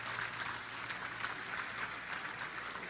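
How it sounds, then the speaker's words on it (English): Steady applause from an audience at an energy summit dinner, a dense even wash of clapping that continues without a break throughout. "could we have a warm applause for the IID sponsoring this?"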